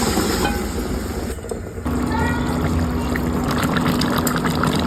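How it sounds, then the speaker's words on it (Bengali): Hot water pours into a pot of chicken curry with taro, a loud, continuous rushing splash with bubbling that dips briefly, then runs on steadily. "গরম জল দিয়ে দিলাম।"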